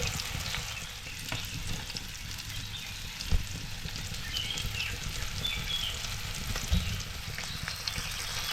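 Mandeli fish coated in semolina fry in hot oil, giving a steady, close sizzle and crackle that runs without a break, with a couple of sharper pops and no talking.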